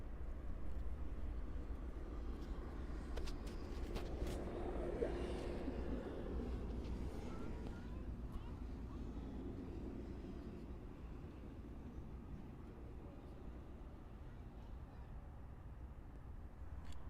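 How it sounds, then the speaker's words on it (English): An American Airlines Boeing 787-9 Dreamliner on final approach into Miami International, arriving from Madrid, gives a steady distant jet rumble that swells slightly mid-clip and then fades back under broadband outdoor noise. "we have an American Airlines 787 on final for Runway 9er arriving in from Madrid"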